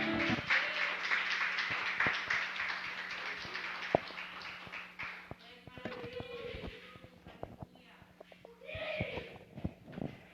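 A congregation at a church service claps in praise, a steady stream of hand claps that thins and fades over time, with scattered voices calling out around it.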